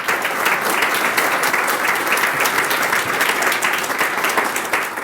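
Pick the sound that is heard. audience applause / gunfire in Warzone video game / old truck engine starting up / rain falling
audience applause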